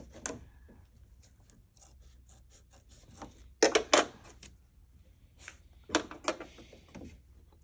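Scissors trimming embroidery fabric held in a hoop for a quilt block: quiet, sparse snips and small clicks with faint rubbing, a couple of louder crisp cuts standing out against near silence.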